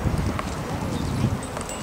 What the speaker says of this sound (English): I'm pulling this horse up